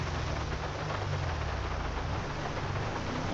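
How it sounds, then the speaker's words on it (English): Steady heavy rain in the GTA V video game during a night police patrol, a dense continuous hiss with a low rumble underneath, loud and unbroken throughout with no talk. "I might turn the rain off."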